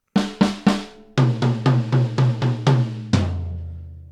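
A one-bar drum fill on a drum kit: three quick resonant hits, a short pause, then a rapid run of about seven pitched tom strokes, ending on a final struck hit that rings out, close and clear.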